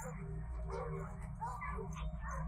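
Search dogs bark and whimper in the woods, muffled and mixed beneath ongoing talk and a low background rumble.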